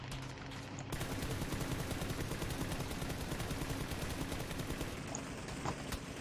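Sustained automatic fire from an M4 rifle fitted with a 4x scope and full attachments in PUBG, a rapid, even stream of loud shots that runs unbroken for about five seconds.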